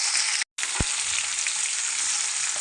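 Onions sizzling in hot oil with mustard seeds, cumin and curry leaves, a dense steady hiss broken by a brief gap and a single clack of a utensil, close and alone.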